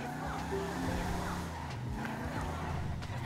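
Car in GTA 5 with engine speed boosted tenfold, a loud continuous high-revving engine drone with skidding tire noise, steady throughout the short stretch.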